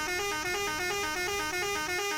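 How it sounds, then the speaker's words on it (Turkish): A loud, sustained video-game truck air horn blares with steady harmonic tones, pulsing slightly in a regular rhythm throughout, alone without talk. "Bir tır kornamıza basalım."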